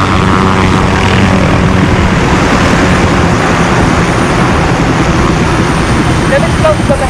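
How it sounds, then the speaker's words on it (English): A loud, continuous engine drone with a propeller-like rumble holds steady throughout, helicopters approaching close overhead in a Call of Duty: Modern Warfare video game. "Barkov is sending in helicopters."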